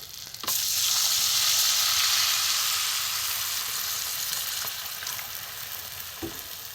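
A sudden loud sizzling burst as water hits hot masala for pumpkin kofta curry gravy, the hiss swelling then slowly easing, with a couple of faint stirring knocks.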